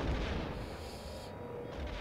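Weapon fire from starfighters in the video game Star Wars Rogue Squadron 3D, a dense continuous roar of blasts and rumbling booms, steady and moderately loud with no speech.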